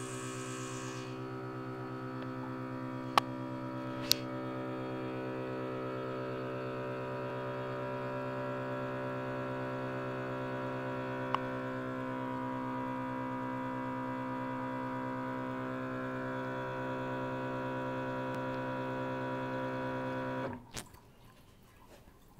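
Level Fill XF1100 bottle filling machine running, a steady close mechanical hum with pump whine holding for about twenty seconds, a few sharp clicks along the way, then stopping with a clatter.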